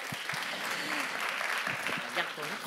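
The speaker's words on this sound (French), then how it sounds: "sous vos applaudissements, bien entendu." Audience applause at an education-in-media award ceremony, a steady dense wash of many hands clapping throughout, with a few faint voices underneath.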